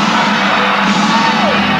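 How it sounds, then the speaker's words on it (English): Wrestling crowd at the Tulsa Convention Center rising to its feet, a dense, loud roar of cheering and shouting that holds steady throughout, with no single voice standing out. "The crowd comes to their feet."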